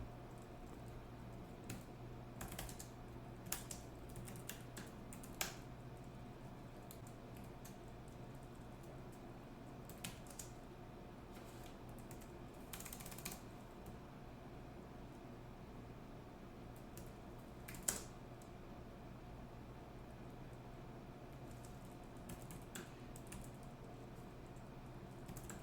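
A computer keyboard types out a sudo command in faint, sparse keystroke clicks spread across a quiet, steady background hum, with no talking.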